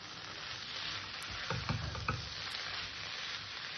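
Kidney beans (rajma) sautéing in a pan give off a steady close sizzle, broken by a few soft stirring scrapes near the middle.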